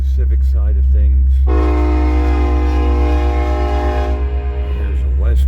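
A westbound Union Pacific freight train in Fremont, Nebraska sounds a loud, sustained multi-tone horn blast lasting several seconds over a steady low rumble of the passing locomotives and cars, with brief voices before and after.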